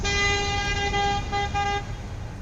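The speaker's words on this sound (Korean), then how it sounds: "이젠 쿨하게 클락션까지 울리더랍니다. 빵빵, 그것도 길게 계속." A car horn blares on a road in one long, continuous tone, loud and steady, with a few brief dips before it stops and leaves low traffic noise.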